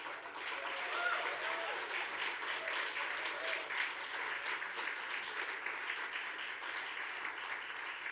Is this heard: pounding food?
no